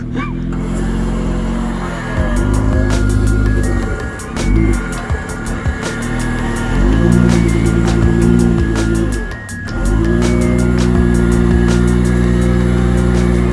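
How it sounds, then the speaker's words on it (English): A Jeep JL Rubicon stuck and being winched out, its engine droning loud and close with rising and falling revs as the wheels spin, with brief dips and voices under the engine. "I'm trying to keep the wheel spin to a minimum"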